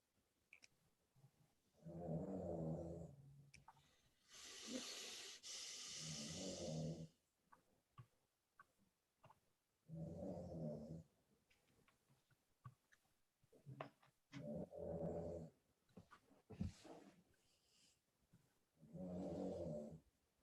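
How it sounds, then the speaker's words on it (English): Sleeping dog snoring in a quiet room, a series of loud rasping snores in a slow repeating rhythm, each lasting a second or two with soft clicks and breaths between. "Can y'all hear my dog snore?"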